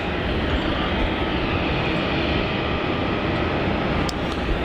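A Qantas Boeing 737-800 departs Melbourne Airport for Sydney, its jet engines a loud, steady, broadband roar that holds for the whole stretch, with no voices.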